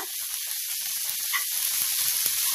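Carrot and tomato sizzle steadily in a hot pan while frying, with a continuous hiss and occasional faint stirring scrapes and no talk.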